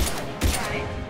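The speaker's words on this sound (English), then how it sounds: "Pistol." A single sharp pistol shot in Mass Effect 3, a short crack in the middle of a brief stretch of busy game noise.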